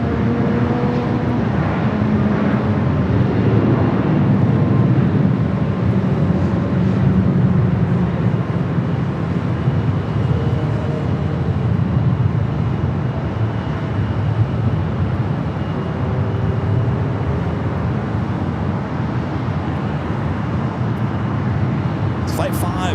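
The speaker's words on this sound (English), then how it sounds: "ANA heading back to Tokyo Arena on the 787-9 Dreamliner, up and next for takeoff" An ANA Boeing 787-9 Dreamliner takes off from runway 24 Left at LAX, bound for Tokyo. A loud, sustained broadband jet roar with a deep rumble holds steady for the whole stretch.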